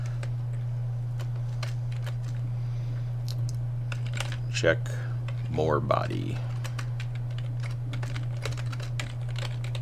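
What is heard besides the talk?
typing on a computer keyboard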